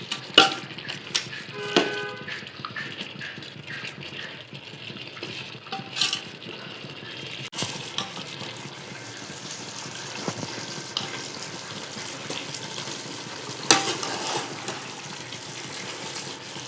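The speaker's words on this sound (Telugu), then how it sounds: "చికెన్ బాయిల్ అవుతుంది. మధ్య మధ్యలో కలుపుతూ ఉండాలి" Chicken and mutton for a mixed biryani boil in a pot and are stirred now and then, giving a wet bubbling wash with scattered metallic clinks of the spoon against the pot.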